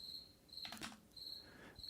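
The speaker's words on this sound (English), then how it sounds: "Crickets." Crickets chirp in short, repeating high-pitched trills with brief pauses between them, fairly faint against a quiet background, with a soft rustle in the middle.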